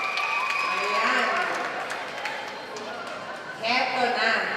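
An audience at The Voice of Pangasinan grand finals claps and cheers, a broad wash of applause that fades midway and surges back louder near the end, with shrill whoops and voices mixed in.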